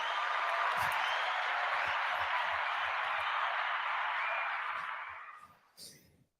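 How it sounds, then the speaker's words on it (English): Dense, steady applause from a group during a subscriber-milestone celebration holds loud for about five seconds, then tapers away to quiet with a last few scattered claps. "let's all clap for that."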